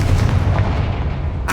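A Confringo blasting spell goes off in Hogwarts Legacy, a loud, dense rumbling blast of low boom that fills the whole moment, with a sharper burst near the end.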